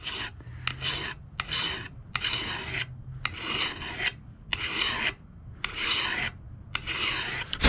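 Hand file rasping across a lawn mower blade in short, rhythmic strokes, roughly a dozen close, loud bursts separated by brief pauses, with no talking.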